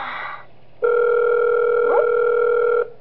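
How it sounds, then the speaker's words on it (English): A telephone rings in the horror video game Those Nights at Wario's 3 inside an office, one steady electronic tone held for about two seconds after a brief softer tone, clear and alone. "Oh, you have a phone call."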